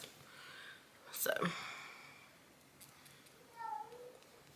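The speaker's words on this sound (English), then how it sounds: "if you guys hear my cats crying in the background" House cats cry faintly in the background, two short plaintive meows a few seconds apart, under soft quiet speech in a calm indoor room.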